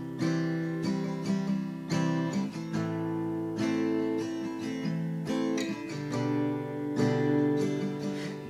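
Acoustic guitar chords strummed in a steady rhythm, each chord ringing out before the next, played alone without voice.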